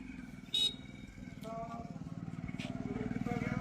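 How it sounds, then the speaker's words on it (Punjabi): A motorcycle engine drones steadily and grows a little louder, passing nearby with a rhythmic putter on a village road, while a person talks over it. "ਇੱਧਰ ਜਿੱਧਰ ਮੋਟਰਸਾਈਕਲ ਜਾ ਰਿਹਾ ਹੈ"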